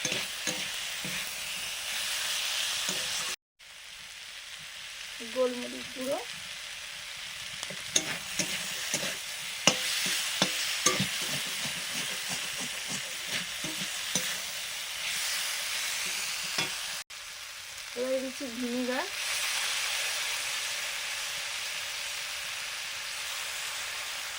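Chopped tomato fries in a pan for chicken roll filling, giving a continuous hissing sizzle with frequent spatula scrapes and clinks, broken by two brief pauses and a short squeak, no voices.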